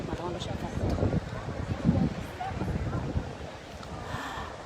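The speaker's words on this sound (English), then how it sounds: "can you hear the wind? Can you tell me if the wind is too strong?" Steady outdoor wind buffeting a microphone at the Fountain of Neptune in Florence, a continuous low rumble and roar throughout with fluctuating gusts.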